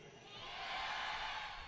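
A large audience shouts a loud, sustained yes in unison, a crowd roar that swells and holds for under two seconds in a big hall.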